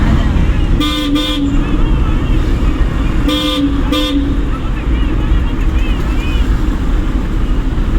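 A loud bus horn blasts twice in two quick pairs of honks, heard during a driving lesson, over constant road and engine rumble with voices in the background.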